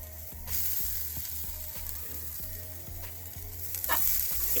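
Grated coconut dry-roasting in a pan for a Sri Lankan crab curry, a close, steady crackle with regular rhythmic scraping strokes of a spoon, no talking.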